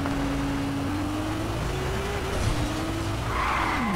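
Car driving in the Fortnite video game, with a steady engine drone throughout and tire skidding and squealing as it swerves near the end, loud and continuous with no talk.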